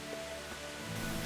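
Heavy rain pours steadily in a medieval combat game, a dense broadband wash that holds level throughout with no voices over it.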